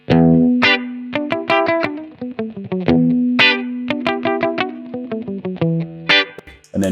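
An electric guitar plays a quick riff through a Blackstar Amped 2 amplifier with no pedal engaged, a repeating pattern of plucked notes with sustained low tones and a slightly gritty edge.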